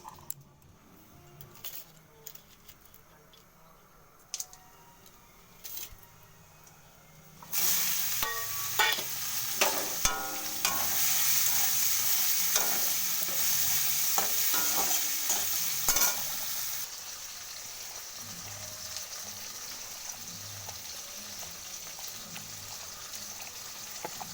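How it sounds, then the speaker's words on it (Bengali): Whole garam masala, bay leaf and onion hit hot oil and burst into a loud, steady sizzle after several quiet seconds of faint stirring and clinks, then settle into a softer continuous crackle close by with no talk. "এখানে ফোড়নে দেব গোটা গরম মশলা, তেজপাতা, পেঁয়াজ, আর দেবো একটু চিনি।"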